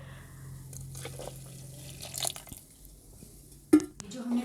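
More water is poured into a gram flour batter for vegan kadhi, a soft trickling pour with faint drips and a brief louder splash near the end, heard over a quiet kitchen hum.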